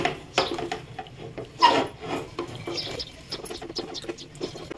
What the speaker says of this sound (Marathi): आता हे 5-6 मिनिटं असं हलवत राहायचं, त्याच्यातली साखर चांगली विरघळेपर्यंत